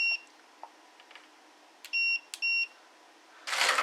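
An electrical continuity tester beeps while a guitar amp cable is checked for shorts: two steady, clear, fairly loud tones, each lasting about a third of a second, with faint clicks and handling noise around them and a burst of rustle at the end.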